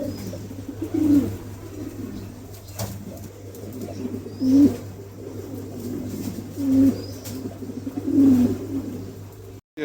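White King pigeons give four soft, throaty coos spaced a few seconds apart, close by, over a low, steady background hum.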